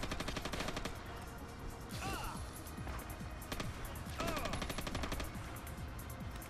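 Rapid, continuous video game gunfire in Winback 2, bursts of repeated automatic shots with brief lulls, fairly close, with someone talking over it.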